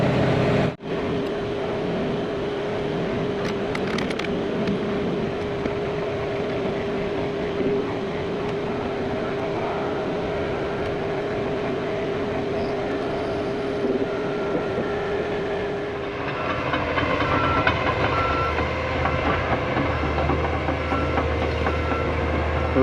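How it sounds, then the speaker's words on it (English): A John Deere 850J dozer rips through rock and hard dirt on a lake job, its steady engine drone and grinding, clanking mechanical noise continuing close and loud without letup, building slightly heavier near the end. "Ripping rock, baby."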